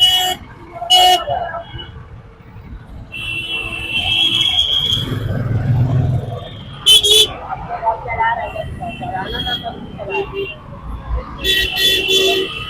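Busy road traffic on the way to Danapani beach, with several sharp car horn toots standing out near the start, middle and end over a steady engine rumble. People talk throughout.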